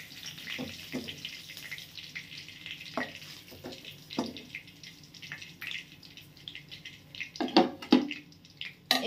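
Chicken pieces fry in oil in a pan over a low-to-medium gas flame, giving a soft, irregular sizzle broken by sharper crackles and spatters, louder toward the end.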